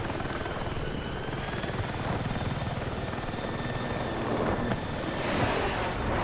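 Helicopter in the video game Battlefield flying close by, a steady loud rotor and engine drone that holds throughout with no talking.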